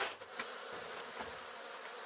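Honey bees in an open beehive during spring work on an apiary hum in a dense, continuous buzz close up, with small swells as individual bees pass near.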